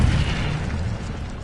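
A fire blast from the Incendio spell in the video game Hogwarts Legacy, a loud, deep whooshing boom that erupts at once and rolls on steadily for about a second and a half.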